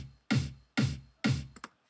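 Three punchy, heavily compressed Vengeance kick drum samples hit in even succession, each a deep boomy thump with a quick tail, followed by a couple of short clicks.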